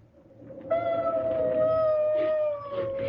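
A dog howls in a staged theatre drama, one long sustained wavering howl that rises in and holds loud and close, with a slight dip near the end.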